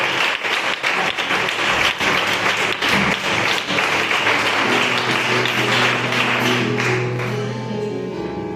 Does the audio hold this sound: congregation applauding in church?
yes